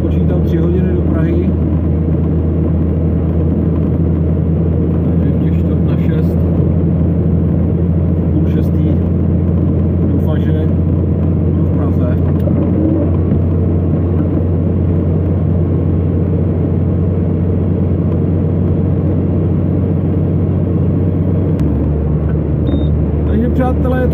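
A Czech truck cruises on the D1 motorway at night in light drizzle, a constant loud low engine and road rumble heard from inside the cab.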